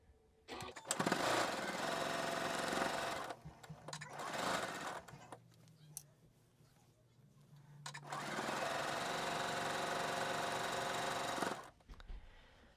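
A sewing machine stitches a quilt seam for a tulip block, its steady close whirring running in two long bursts with a short pause between them.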